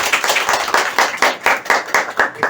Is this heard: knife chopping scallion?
no